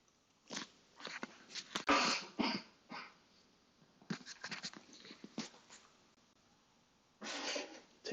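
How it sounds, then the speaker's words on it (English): A man at a desk building a LEGO Star Wars Tantive IV coughs nearby in several harsh, uneven bursts, with quiet pauses between them and a final cluster of coughs. "Sorry if that cough was annoying."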